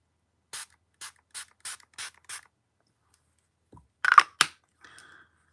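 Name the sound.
setting spray being sprayed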